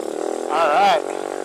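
A semi-automatic mini dirt bike engine drones steadily nearby, then revs up and back down in one short rising and falling surge before settling into its idle hum.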